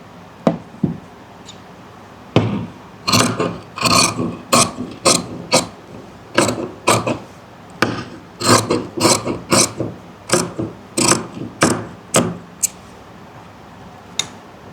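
Scissors make a long series of short, sharp snips into fabric while trimming a neckline. The cuts come close together in quick bursts with small pauses between them, heard close with no talking.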